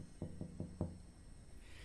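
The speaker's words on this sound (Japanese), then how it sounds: "ノックしちゃう" Four quick knocks on a door in a horror video game, sharp and evenly spaced, followed by quiet.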